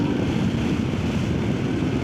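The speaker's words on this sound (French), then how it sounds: "Tu vois, je redescends un rapport." A Voge DS800X Rally motorcycle engine drones loudly and steadily as the rider drops a gear, a dense, continuous mechanical hum with no clear break or blip.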